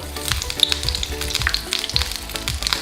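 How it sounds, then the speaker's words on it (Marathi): Mustard seeds spluttering in hot oil in a kadai, with dense crackling pops and sizzle repeating steadily and up close, no voices. "मोहरी तडतडली"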